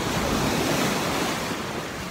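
Sea waves breaking below English cliffs on a hot sunny day, a loud continuous wash of surf mixed with wind buffeting the microphone, steady throughout with no voices.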